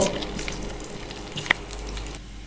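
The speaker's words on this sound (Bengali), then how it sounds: "দিয়ে দিচ্ছি রসুন এবং শুকনো মরিচ শুকনো মরিচ দুটাকে আমি মাঝখান থেকে ছিঁড়ে দিয়েছি নেড়ে চেড়ে ব্রাউন কালার করে ভেজে নেব" Garlic and torn dried red chillies frying in hot oil for chicken haleem tempering, a soft continuous sizzle with a single sharp pop near the middle, close and moderately quiet.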